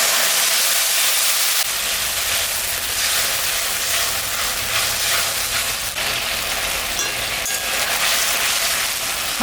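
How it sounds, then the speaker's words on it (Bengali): Onion fries in a hot pan with a loud, even sizzle. Mustard and green chilli paste goes in early, and the hissing crackle continues strongly throughout. "পেঁয়াজটা ভাজা হয়ে গেছে, এখন আমি এই যে সর্ষে আর কাঁচা লঙ্কা বাটে রাখছি এটা দিয়ে দেব।"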